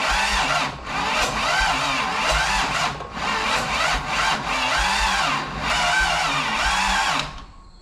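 A Toyota Land Cruiser FJ40 pulled from a junkyard, fitted with a barn-found carburetor, cranks for several long loud stretches without catching, the starter's rhythmic churn broken by brief pauses, close up and with no talk.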